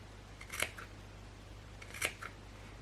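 Two close, crisp snips of scissors cutting along the edge of paper, each a short crunchy slice separated by a pause, quiet against a faint background hum.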